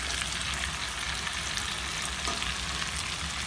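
Tomatoes fry for chicken karahi in a dense, constant hiss of hot oil, loud and close, with faint stirring scrapes barely emerging through the sizzle.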